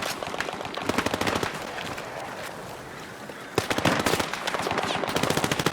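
Rapid automatic gunfire rattles in the Battlefield 6 video game, in two loud, dense bursts of machine-gun fire separated by a short, quieter stretch.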